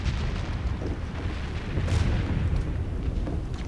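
Low, sustained rumble of distant French artillery cannon fire in a period film battle scene, a continuous booming roar with no clear separate shots and no speech.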